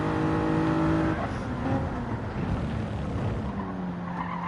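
Race car in a racing game braking hard into a corner, engine whine dropping in pitch as the tires squeal and skid, then a steadier engine note pulling out, close and fairly loud.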